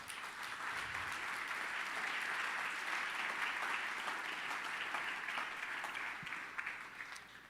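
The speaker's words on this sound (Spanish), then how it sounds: "Denle un aplauso a nuestro rey" A crowd applauds at a church gathering, sustained clapping from many hands that holds steady for several seconds and then tapers off, moderately distant and quiet, with no talking over it.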